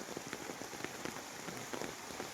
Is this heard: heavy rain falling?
yes